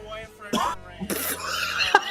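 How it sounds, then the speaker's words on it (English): A man coughs twice, one short burst and then a longer harsh one, while pressing into his larynx with his head thrown back, with some talk around the coughs. "Watch as I throw my head back and cough as I'm pressing into my larynx"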